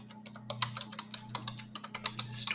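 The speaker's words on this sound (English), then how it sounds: "You can just open a terminal and type" Someone types a pip install command into a terminal on a computer keyboard: quick, uneven runs of sharp key clicks, fairly close, over a steady low electrical hum.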